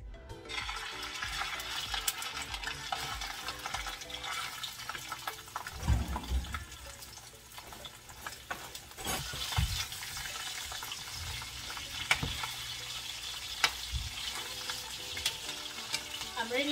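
Sausages fry in a pan with a steady, close sizzle and crackle, interrupted by occasional clinks, stirring and brief splashy knocks.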